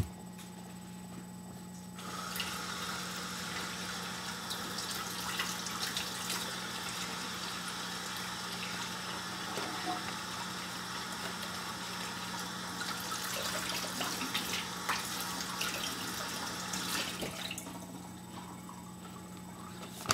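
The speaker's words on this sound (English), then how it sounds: "just run them under cold water just to rinse it off" Cold tap water runs steadily over salmon for most of the stretch, a soft continuous splashing over a low hum, starting and stopping abruptly.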